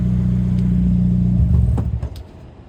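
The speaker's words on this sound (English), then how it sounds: "rev up a little bit, and go right back in gear." A manual car engine revs with a loud, steady mid-pitched drone, then dips and rumbles as the gear is engaged, fading to a quieter settled running sound near the end.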